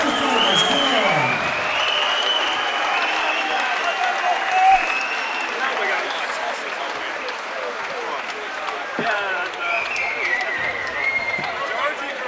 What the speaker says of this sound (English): Round of applause for both fighters